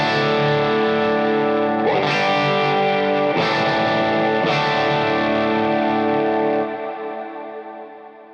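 Sustained electric guitar chords through a reverb pedal, three strummed hits ringing into long, washy trails that fade out at the end.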